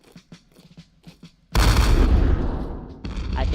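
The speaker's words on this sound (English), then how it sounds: "Here's the next barrage." Howitzer artillery barrage in a video game battle: several quick muffled thuds lead into a sudden heavy booming blast with a long rumbling roar, then a second burst near the end.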